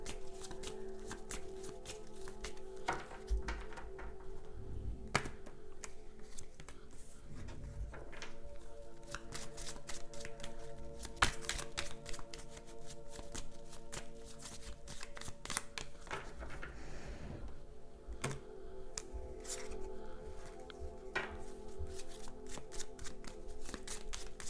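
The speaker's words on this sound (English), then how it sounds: "I'm going to pull a couple of cards from the Keeper deck" Tarot cards from a Keeper deck are shuffled and pulled, giving continuous close riffling and flicking with rapid dense taps and slaps, steady throughout with no talk.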